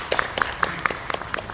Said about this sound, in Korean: 네, 박수 한 번 부탁드립니다.